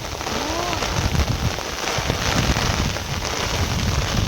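Steady rain blown by wind falls over village farmland, a dense continuous hiss with gusty texture throughout and a brief voice early on.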